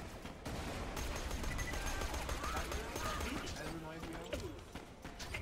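Grenade blasts and rapid gunfire from the video game Borderlands: The Pre-Sequel rattle in a dense, continuous barrage of game combat audio, with a voice talking over parts of it.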